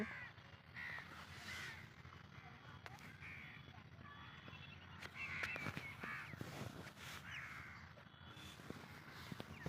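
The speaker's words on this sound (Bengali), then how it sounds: "এই যে কাক খেলা করছে এখানে" Crows caw repeatedly from moderate distance over a maize field, their harsh calls scattered across steady outdoor background noise, with faint voices in the mix.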